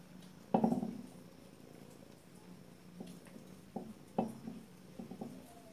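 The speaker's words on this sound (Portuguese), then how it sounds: "Escutar esse ronrono de felicidade." A domestic cat purrs softly and close, a quiet steady rumble broken by a few louder bursts of movement or rustling while it is being petted.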